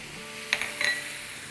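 Roasted crushed coriander, crushed chilies and turmeric powder hit hot oil for an instant pickle, giving a soft, steady sizzle with a couple of brief clinks and scrapes near the middle.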